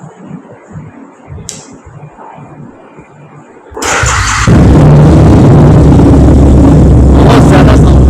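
A 1250cc drag racing motorcycle starts with a sudden loud roar and then holds a steady, very loud engine drone, following a quieter stretch of background noise.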